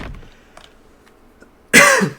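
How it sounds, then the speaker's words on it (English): After a quiet pause with faint rustling, a single loud, harsh cough erupts close by. "my cough's not going anywhere"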